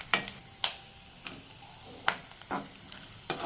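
Coconut pieces and cashews fry in ghee with a faint, quiet sizzle, punctuated by a few sharp clicks and scrapes of a stirring spoon against the pan.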